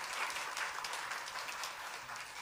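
A church congregation gives a round of warm applause during a Sunday service, steady continuous clapping from many hands, fairly distant and soft, with no talking over it.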